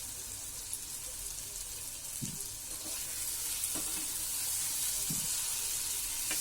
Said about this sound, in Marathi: मीठ घालून हे आपण भाजी परत परतवून घ्यायची चांगली.